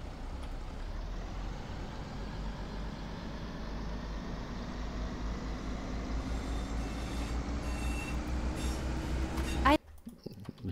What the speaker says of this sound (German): So klingt der Zug von außen.